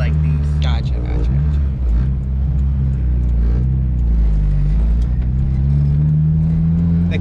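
A 1991 Honda CRX DX with a B16 engine pulls under acceleration, its loud, steady engine drone and deep rumble filling the cabin throughout with only slight shifts in pitch.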